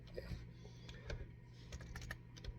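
Quick, faint clicks of computer keys typed in bursts, close but quiet, while an online ad is set up.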